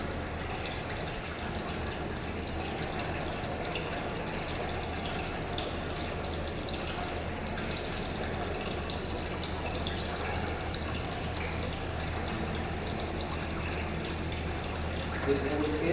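Water runs steadily from a faucet during hand washing, a constant hiss and trickle at moderate level throughout, with someone speaking over it.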